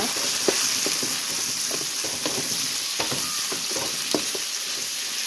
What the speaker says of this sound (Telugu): 2 నిమిషాలు ఆయిల్లో బాగా వేసుకోండి.